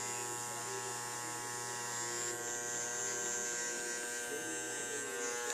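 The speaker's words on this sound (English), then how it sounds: "all I'm going to do is I'm going to open my clippers all the way up now" Electric hair clippers buzz steadily and close throughout while cutting a back taper on a man's head, a continuous even motor drone with no pauses.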